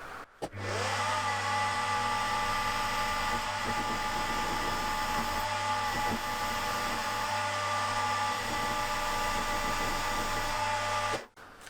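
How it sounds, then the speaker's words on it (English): A milling machine whines steadily as a slot drill cuts through a metal engine crankcase, with a constant high-pitched motor tone and grinding texture that stops abruptly at the end. "I'm going to use this slot drill to drill right through and put a radius on the corner"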